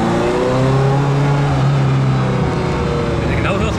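A Ferrari F40 engine drones loudly from inside the car as it drives, a rough, sustained roar with a rising pitch as it revs. Voices in the car are partly buried under the engine.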